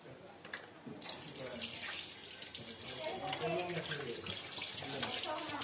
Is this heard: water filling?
yes